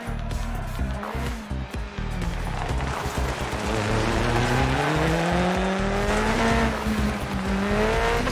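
Simulated racing car engine from a home sim rig running Dirt Rally, Project Cars or Assetto Corsa, a loud continuous roar rising and falling through gear changes with tire squeal, steady throughout.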